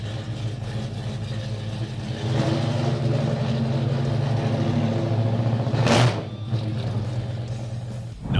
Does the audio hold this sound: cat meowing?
no